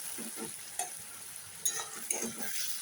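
Onion with ginger-garlic paste frying in a pan, a soft steady sizzle under a few scraping stirs of a spatula, fairly quiet and close.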